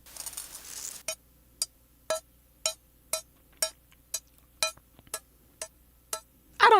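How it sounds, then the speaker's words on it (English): Small chain rattling in an old kitchen skillet, heard as a series of sharp metallic clinks at a roughly steady rhythm, each brief and close, after an opening burst of louder jangling. "I put a small chain in the pan."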